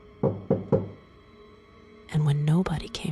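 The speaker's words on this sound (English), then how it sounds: "knocked once firmly" Three firm knocks on a door, evenly spaced and close, followed by a person's voice speaking.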